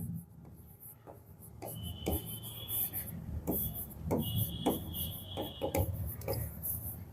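Chalk or marker scratching across a board during a classroom lesson: short strokes and longer rubbing passes come in irregular bursts, fairly close and clear, with no talking over them.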